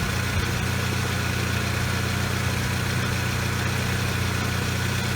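A 2003–2012 Saab 9-3 engine idles steadily during an AC recharge, its constant loud mechanical drone filling the space at close range with no distinct compressor on-off change standing out.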